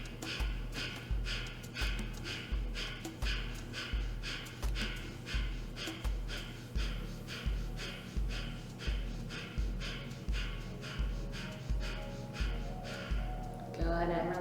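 Rapid, forceful exhalations through the nose during yoga breathing keep an even, quick rhythm of about two per second, close and loud, ending in a brief pause.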